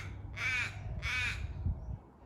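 Crow cawing near a garden, two loud harsh caws about half a second apart, followed by quieter background noise.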